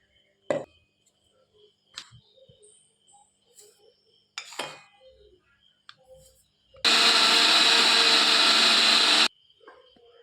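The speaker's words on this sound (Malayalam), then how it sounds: "ഇത് നമ്മൾ മിക്സിയുടെ ജാറിലിട്ട് നല്ലപോലെ പൊടിച്ചെടുക്കണം" A mixer grinder jar blitzes semolina (rava): a loud, steady whirring roar lasting a couple of seconds, preceded by scattered clinks and knocks of the jar and utensils in a quiet kitchen.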